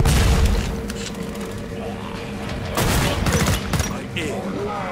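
Rapid gunfire in Killing Floor 2 during a Krampus Lair survival match, loud bursts and booming shots cracking in clusters with short gaps, dense and close over the game's background noise.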